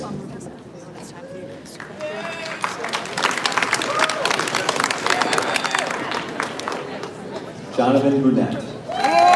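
Audience applause at an eighth-grade graduation ceremony at Parkview Middle School, a steady wash of clapping mixed with crowd chatter that swells and continues, with voices talking over it.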